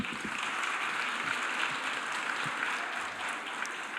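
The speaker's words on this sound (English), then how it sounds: "Can we give another round of applause" Audience at an Africa Day lecture gives a round of applause after a choir sings the national anthem, dense sustained clapping from a large crowd.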